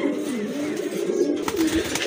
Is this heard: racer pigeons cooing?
yes